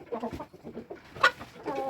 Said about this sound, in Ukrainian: Це кури.